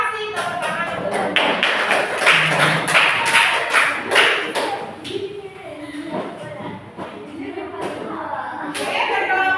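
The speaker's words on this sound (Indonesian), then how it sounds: "Terima kasih tepuk tangan" Pupils in a classroom clap in sharp, uneven bursts that fade into scattered taps and thumps, with a teacher talking over and between the claps.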